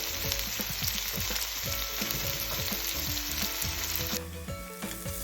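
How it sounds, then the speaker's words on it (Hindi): Chopped onions sautéing in butter with cumin for pav bhaji: a loud, continuous close-up sizzle with occasional stirring scrapes, easing slightly near the end, with no voices. "प्याज को सॉटे करेंगे जब तक वो ट्रांसलूसेंट ना हो जाए"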